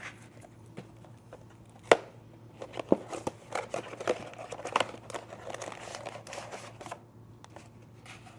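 Plastic unboxing packaging crinkles and rips open in a run of close, irregular crackles and sharp tearing snaps, with no talking over it.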